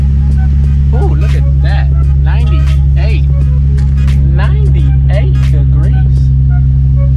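An Infiniti G35 engine idles loudly and steadily up close on its first startup after an oil cooler install, with a constant low drone, while a person talks briefly over it.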